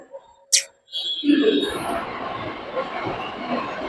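A metro train rolls into a station with a loud, steady rumble and roar of wheels that builds after a sharp click, with faint voices in the background.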